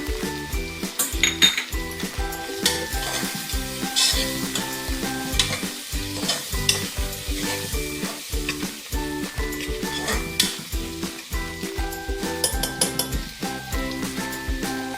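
Browned onion, cumin and turmeric sizzle loudly in a pressure cooker for chitranna while a metal spoon scrapes and clinks steadily against the pot, close and continuous, with no voices.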